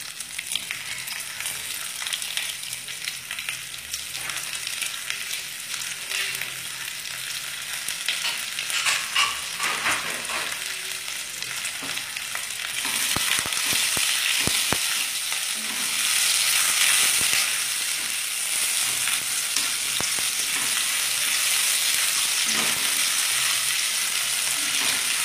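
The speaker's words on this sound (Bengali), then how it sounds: "কুচানো পেঁয়াজগুলো দিয়ে দিচ্ছি" Chopped onions fry in a pan with a continuous close sizzle that grows louder and brighter partway through, with occasional stirring scrapes and crackles alongside, for a cabbage dish with rohu fish head.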